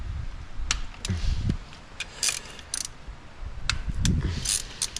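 A ratchet works loose the 14 mm bolts on a GR Corolla shifter linkage, giving sharp, irregular clicking bursts with softer metallic handling and tool knocks between them, close and fairly loud, with no talk.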